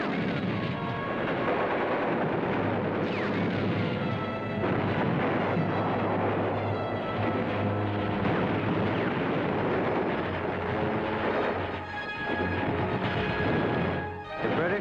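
A WWII battle at Arnhem as German panzers counterattack, heard as dense continuous artillery booms, explosions and gunfire layered over a low rumble, loud and chaotic throughout.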